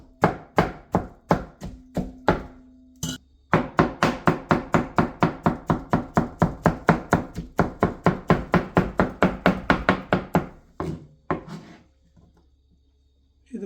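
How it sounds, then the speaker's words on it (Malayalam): A knife chops pineapple on a board in rapid, even strokes, dozens of close, crisp knocks with one short pause, then slowing to a few final cuts before quiet. "ഞാനിതിനെ കത്തി കൊണ്ട് ചോപ്പ് ചെയ്യാനാണ് ഉദ്ദേശിക്കുന്നത്."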